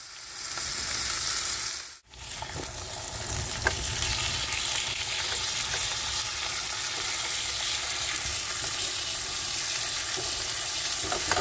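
Pork chops frying in a pan alongside potatoes and veg, a steady close sizzle and crackle with a brief dropout near the start, then continuous hissing with small pops; no voices.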